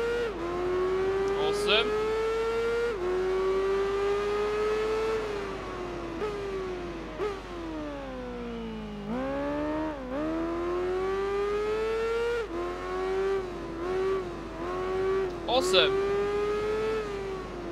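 Racing motorcycle engines in the video game Tourist Trophy, during a TT World Series race: a high, buzzing engine note rises steadily, drops at each gear change and swings through throttle sweeps, with brief talk over it.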